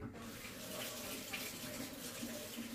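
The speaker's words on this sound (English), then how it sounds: "I'm going to wash my hands off real quick." Water running steadily from a tap into a sink while hands are washed, a soft, even splash and hiss heard close by for a few seconds with no one talking.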